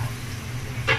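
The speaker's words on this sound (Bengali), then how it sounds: "এই মশলাটা আমি কষাবো।" Spice paste fries in oil in a pan over medium heat, a soft steady sizzle with a brief louder burst of crackling near the end.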